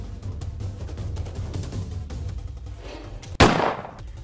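A single sharp gunshot from a gun in an animated cartoon bursts out near the end, loud and close, following a stretch of low rumbling background.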